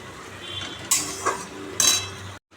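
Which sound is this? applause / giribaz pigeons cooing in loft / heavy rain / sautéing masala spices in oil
sautéing masala spices in oil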